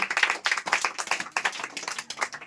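Children in a Bihar classroom clap for a correct quiz answer, a quick burst of close, uneven handclaps lasting a couple of seconds with no talking over it.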